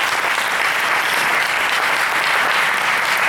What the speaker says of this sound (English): And clap like you mean it.